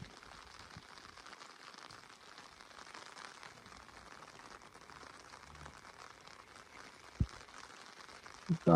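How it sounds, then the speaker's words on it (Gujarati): Heavy rain falls through the night as a steady, soft, even hiss with no voices, broken by a couple of sharp knocks near the end. "આખી રાતનો વરસાદ ચાલુ છે"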